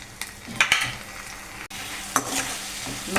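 Masala roasting in oil in a pan for a paneer dish, a continuous close sizzle punctuated by several distinct stirring scrapes and clinks of a spoon, fairly loud, no voices heard.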